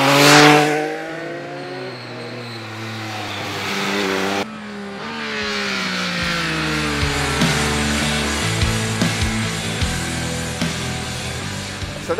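2021 Triumph Speed Triple 1200 RS motorcycle riding on a track, engine loud and close, revving steadily through rising and falling pitch sweeps with gear changes over twelve seconds, no talk.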